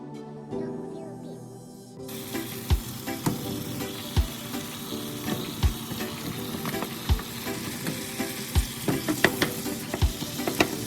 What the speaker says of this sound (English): I added my ground beef and let it cook for a while.